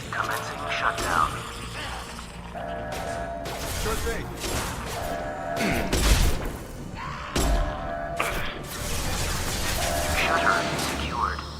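Metal shutters operating in the video game Mass Effect 2, with mechanical clanking, ratcheting and heavy thuds recurring through the clip under combat noise and brief speech.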